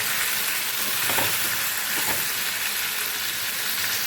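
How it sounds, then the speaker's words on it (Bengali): Chicken meat fries in a pan with a loud, constant hiss of hot oil, and a couple of stirring scrapes rise briefly out of the sizzle. "এটা 2 মিনিট আমি ভালোভাবে ভেজে নেব।"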